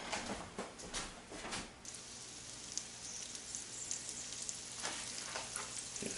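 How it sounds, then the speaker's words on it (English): Pieces of chicken for chicken marsala sizzle and fry steadily in a hot pan, a continuous crackling hiss with occasional louder pops, close and alone with no voices. "Once those start to sizzle"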